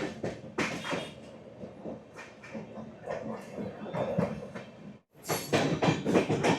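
The Tebhaga Express pulls out of Pakur station in Jharkhand, heard from on board as rhythmic wheel clatter and bursts of rail noise, with a brief drop to near-quiet before the rattling resumes.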